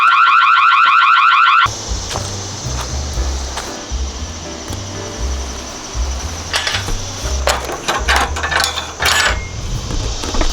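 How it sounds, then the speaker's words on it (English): A house alarm at a vacation rental blares a rapid pulsing electronic tone for under two seconds, then cuts off, leaving steady outdoor rumble and scattered clatter. "We just locked ourselves out of the back door, and then an alarm went off"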